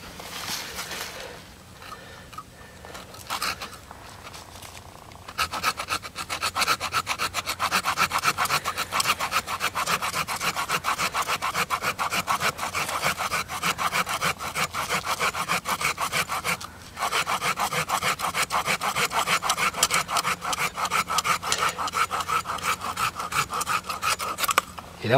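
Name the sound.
small hand saw cutting wood under a grapevine graft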